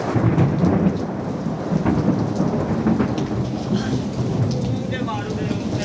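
Steady rain pours down in Sialkot with rolling thunder beneath it, a dense, continuous roar at close range with no voices heard.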